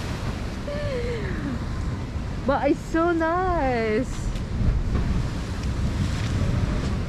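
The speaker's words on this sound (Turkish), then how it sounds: "Dalgalar aşırı yani." Strong ocean waves roll and crash off the coast of Cuba near Havana, a steady loud surf roar mixed with wind buffeting the microphone, while people talk over it throughout.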